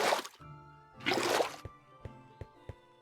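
Water being scooped into buckets in Minecraft: two bursts of splashing fill sounds, followed by a few soft, evenly spaced drip-like pops. There is no talking.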